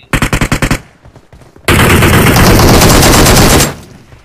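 Gunfire in a mobile battle royale game: a rapid run of sharp, loud shotgun blasts, a brief lull, then a sustained loud roar of shooting lasting about two seconds.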